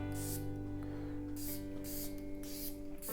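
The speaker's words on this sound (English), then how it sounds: "I shouldn't spray that much." Several short hissing bursts of a perfume atomizer, spaced about a second apart, over a steady low hum.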